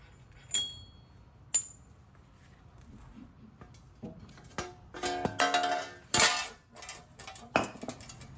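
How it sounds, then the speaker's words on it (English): Metal parts clink and clatter as the axle nut and wheel hub come off a Jeep Wrangler front axle, starting with two isolated sharp taps and building into a burst of jangling, scraping metallic clanks nearby. "now I can take the axle nut off and the wheel hub should come off."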